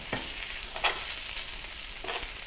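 Rice fries in olive oil in a cast iron pan, a steady close sizzle with a few brief scraping stirs at irregular intervals and no talking.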